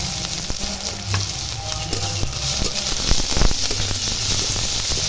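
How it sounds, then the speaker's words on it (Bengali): Chopped onion and green chili hit hot white oil in a pan for chicken momo filling, producing a loud, continuous sizzle and crackle with a few stirring scrapes throughout. "তেল গরম হয়ে গেছে পেঁয়াজ কুচি দিয়ে দেবো কাঁচা লঙ্কা কুচি"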